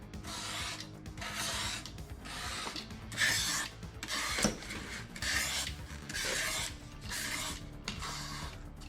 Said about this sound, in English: Take your knife and just start whittling away and cutting out the design.